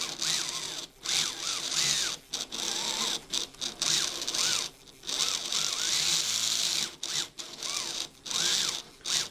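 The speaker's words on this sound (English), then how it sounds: "So you just rock the car back and forth here on the sanding block." A slot car's electric motor whines as its tires spin against a sanding block while the car is rocked back and forth, the high buzzing rising and falling in repeated bursts with short pauses between them.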